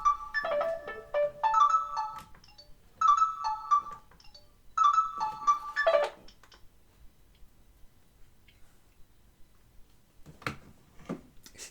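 A phone ringtone plays a repeating electronic melody in several short bursts over about six seconds, then stops, leaving faint clicks and quiet room sound.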